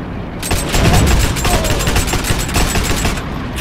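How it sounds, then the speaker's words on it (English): Grease gun submachine gun fire in the game Heroes and Generals: loud, close bursts of rapid automatic shots in a steady rattling stream, with booming gunfire layered across the whole stretch. "Still getting used to the grease gun."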